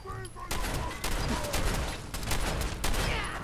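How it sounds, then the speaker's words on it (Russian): Dense, rapid gunfire from the video game Fallout 4 rattles nonstop in loud bursts, a continuous barrage of shots with a faint voice briefly underneath. "Как хорошо в него зашли мои выстрелы."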